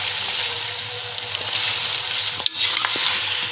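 Chicken with garlic, ginger and green chilies frying hard in a karahi, a loud, steady close sizzle with scraping stirs and one sharp clank partway through, no talking.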